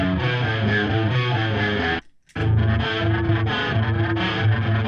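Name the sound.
electric guitar through chorus and delay pedals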